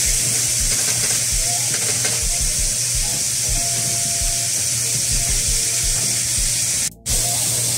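Onions and black pepper frying in a pan for bison chili, giving a steady close sizzle and hiss with faint stirring knocks throughout.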